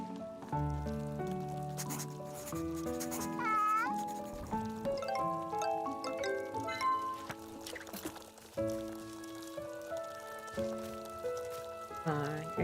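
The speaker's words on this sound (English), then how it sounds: "I heard another cat." In the video game Little Witch in the Woods, a cat meows several times as brief rising and falling cries. They sit over busy game music that plays throughout.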